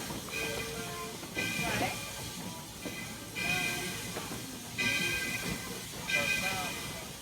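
A steam train on the Walt Disney World Railroad chuffs in slow, regular bursts with steady hissing, easing along at low speed as it pulls into Main Street Station.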